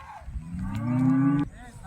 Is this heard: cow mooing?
yes